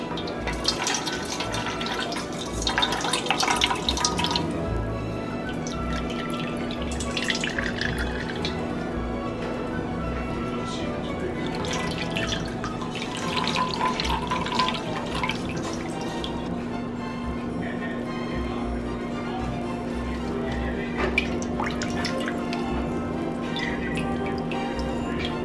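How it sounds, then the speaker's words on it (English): Homemade soy milk dripping and trickling into a bowl as the soybean pulp is squeezed by hand, irregular wet splashes and drips close by over a steady low hum. "you're going to squeeze out all of the soya milk"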